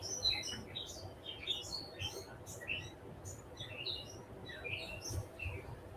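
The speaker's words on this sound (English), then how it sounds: "Got some happy birds at the cottage today." Small birds chirping and tweeting outside a cottage in spring, many quick high calls scattered across the moment, faint and distant over a low ambient hum.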